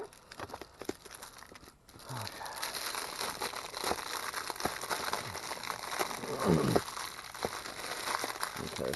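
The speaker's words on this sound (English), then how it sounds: "we have a little plastic bag around this guy" A thin plastic bag crinkles and rustles as it is handled around a TinySA pocket spectrum analyzer, close and continuous with a few sharper crackles, after a brief quieter start.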